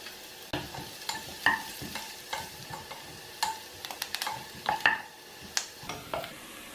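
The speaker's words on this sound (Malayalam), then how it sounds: "ഇതിൻ്റെ പച്ചമണം മാറുന്നിടം വരെ വഴറ്റി കൊടുക്കണം" Onions sautéed in a pan while making tomato egg rice, a light sizzle with a string of sharp spoon scrapes and taps against the pan, close and fairly quiet, no talking.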